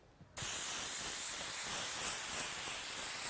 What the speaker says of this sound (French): Afin que votre mousse ne bouge pas de votre assise, appliquez un peu de colle en spray.